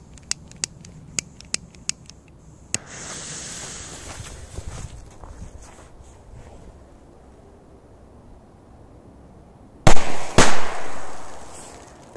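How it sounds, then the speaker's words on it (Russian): Firecrackers go off outdoors in snow: a string of small sharp pops, quiet crunching, then two loud close bangs from a Korsar 4 firecracker near the end. "Корсар 4, два взрыва."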